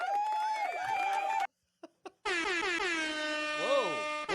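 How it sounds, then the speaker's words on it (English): Loud blasts of an air horn sound effect in a game show, one long blast, a short gap with a few brief blips, then another sustained wailing blast with a pitch swoop near the end. "I even give him an air horn."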